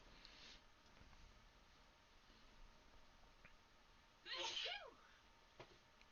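A single sharp human sneeze bursts out of a quiet room and ends quickly, a little way from the microphone, over faint background hiss.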